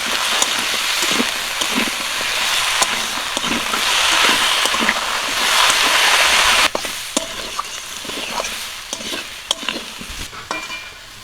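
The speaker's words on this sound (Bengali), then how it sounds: "তেলটা গরম হয়ে গেছে, কুমড়োটা দিয়ে দেবো" Pieces of ash gourd, salted beforehand, fry in hot oil for a dal dish, producing a loud, continuous crackling sizzle with frequent sharp spatula scrapes and clinks against the pan, close up and without talk.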